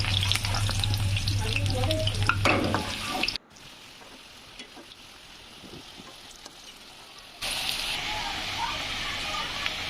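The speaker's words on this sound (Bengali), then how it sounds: "এবার আলুটা ভাজা হয়ে গেছে" Potatoes for aloo dum fry in a wok until lightly browned, a dense, close sizzle that is loud at first, drops quieter through the middle, then swells again.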